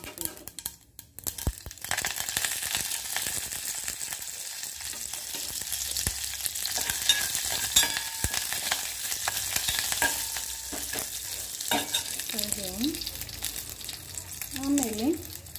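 Curry leaves hitting hot oil with popped mustard seeds for a sambar tempering, a dense loud crackling sizzle that runs throughout, with clattering and some brief voiced sounds near the end.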